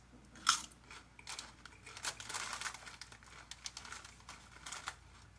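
One sharp crunchy bite into a baked white cheddar chip, followed by soft, close crunching as it is chewed, quiet with no talking.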